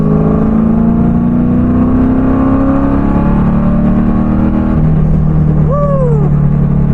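A Mazda Miata, originally around 116 horsepower, accelerates hard on a dark-evening ride along, its engine note rising steadily as heard from inside the cabin, loud and continuous throughout.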